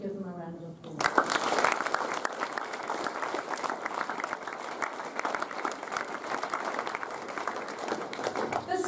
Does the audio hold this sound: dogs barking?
no